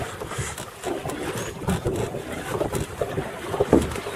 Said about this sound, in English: And the wind's blowing me around the corner.